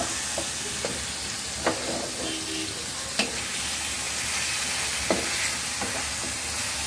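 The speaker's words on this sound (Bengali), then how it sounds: "ভালো করে নেড়ে চেড়ে দেন কষিয়ে নিতে হবে যাতে করে পুড়ে না যায়" Meat being stirred and sautéed in a covered pan, with a steady low frying sizzle and a few sharp scraping knocks from the stirring spoon scattered through it.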